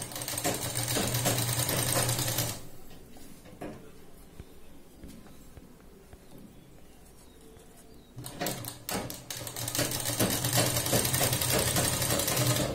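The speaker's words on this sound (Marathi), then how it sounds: "आपण एक अर्धा इंच आतल्या साइडने सरळ शिलाई लावून घेऊया" A sewing machine runs a straight seam through sari fabric on a blouse, a steady close whir for about two and a half seconds, a quiet gap, then a second run with small stops and starts.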